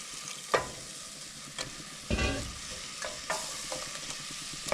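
Flour and stock being stirred into onion soup in a pot, with a steady soft sizzle broken by a few scraping strokes of the spoon, close by and with no talking.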